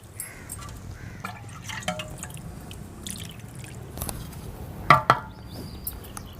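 Water is poured over chenna held in a cloth while it is rinsed for rasmalai and rasgulla, giving soft drips and trickles with a few sharper splashes near the end, fairly quiet and close.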